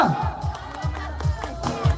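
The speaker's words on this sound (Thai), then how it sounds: "ขอประลองเสียงปรบมือ" Studio audience at a Thai game show clapping and cheering, a busy crowd roar with scattered whoops beneath a loud announcer-style voice and rhythmic low thumps, fairly close and steady for a couple of seconds.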